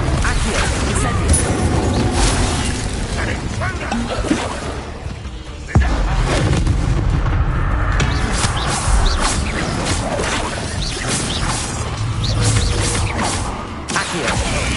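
Repeated spell effects in the Hogwarts Legacy video game sound as dense whooshes, crashes, creaks and thuds over a continuous game soundscape, with voices calling out now and then.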